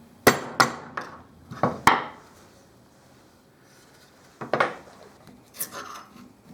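Worn metal plates pried off the wooden body of a Parabellum rubber band gun, giving a handful of sharp cracking and snapping impacts, close and loud, in bursts near the start and again later.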